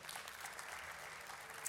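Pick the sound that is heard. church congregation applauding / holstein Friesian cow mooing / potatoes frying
church congregation applauding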